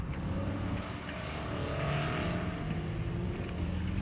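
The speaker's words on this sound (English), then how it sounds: "Greg's engine has injector problems. They haven't been able to sort it out, so it's running on 5 cylinders." A rough-running off-road vehicle engine misfiring on five cylinders because of faulty injectors, at the Outback Challenge event, droning steadily and loud throughout with a low uneven rumble.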